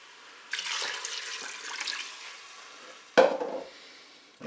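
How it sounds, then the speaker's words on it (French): Water pours steadily into a Cookeo pot holding beef meatballs, peeled tomatoes and white wine, a close rushing stream lasting a few seconds before a sudden splashy clatter; no voices. "Je vais pouvoir ajouter l'eau."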